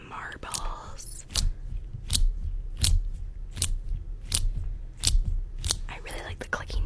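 Marbles click together in a steady series of sharp, close taps about every half second, with soft whispering in between.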